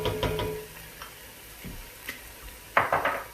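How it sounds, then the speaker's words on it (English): Tomato paste stirred into red dal in a pot: sparse, close spoon clinks and scrapes with a faint simmer underneath, ending in a short burst of louder scraping. "You just want to kind of stir that in"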